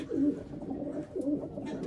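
A pigeon coos twice in low, soft phrases, close by and fairly faint, with no talk over it.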